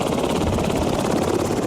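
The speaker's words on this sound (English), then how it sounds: "The Utah Air National Guard landed several Black Hawk helicopters on Capitol Hill" Utah Air National Guard Black Hawk helicopters landing on Capitol Hill: loud, close rotor thumping in a fast steady pulse with a heavy engine roar, filling the whole moment.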